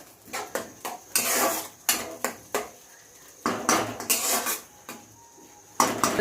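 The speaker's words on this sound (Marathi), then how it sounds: "टमाट्याची पेस्ट चांगली परतून द्यायची." Tomato paste and onion are sautéed together in a pan for egg masala. A spoon scrapes and knocks against the pan in irregular, close, clattering strokes, with a faint sizzle between them.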